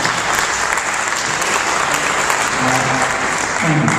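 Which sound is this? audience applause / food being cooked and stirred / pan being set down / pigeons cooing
audience applause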